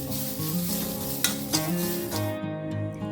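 Grated coconut roasts in a pan over a low flame with a close, steady sizzle and a few stirring scrapes, while background music plays along for a few seconds.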